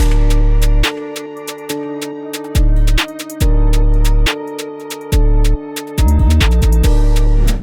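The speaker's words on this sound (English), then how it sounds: "And as you can hear, that'll just glide it up now." Deep 808 bass notes slide upward into each pitch, alternating with a crisp beat of hi-hats and claps, loud and punchy.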